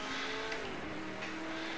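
A 1967 Ford Mark IV race car engine in Project CARS 2 drones steadily at fairly constant revs, its pitch easing slightly after a gear change, brief and moderately loud.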